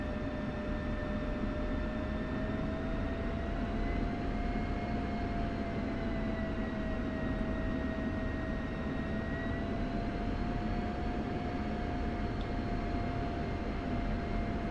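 Steady F-16C jet engine running on the ground in the DCS flight simulator, brake held and RPM raised slightly above idle, a continuous broadband roar with a sustained whining tone that holds steady throughout.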